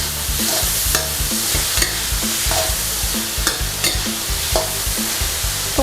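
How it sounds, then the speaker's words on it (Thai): Pork liver stir-fries in a pan with oyster sauce and sugar, a loud close sizzle broken by repeated scraping strokes of the spatula at a fairly regular rhythm, with no voices. "ต่อไปก็ใส่น้ำตาลทรายลงไปสักหน่อยค่ะ ผัดให้เข้ากันดีเลยนะคะ"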